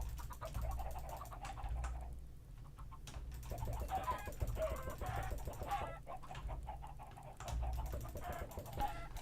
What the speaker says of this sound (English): Oh, my chickens. There's a lot of baby chickens.